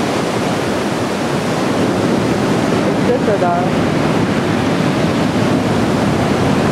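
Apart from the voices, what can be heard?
sea waves crashing over a pier in Sochi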